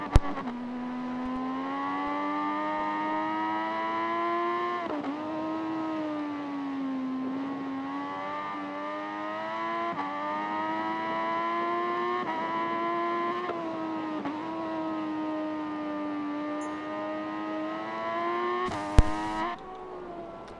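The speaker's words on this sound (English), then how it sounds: "so you can listen to the triple cylinder engine" MV Agusta three-cylinder racing motorcycle engine during free practice at the Brands Hatch GP circuit, a steady high-pitched engine note that rises and dips with gear changes for about twenty seconds, fairly loud and alone, ending with a brief burst of noise.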